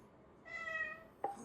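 A Macintosh alert set to a cat meow sounds once on a Turbo Color 68040 machine, a short harmonic mew about half a second long, then a brief sharp click, with no speech.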